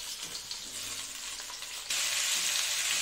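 Vegetables for shukto fry in a pan with a steady, close, bright sizzle that suddenly grows louder and hissier partway through, with no talking.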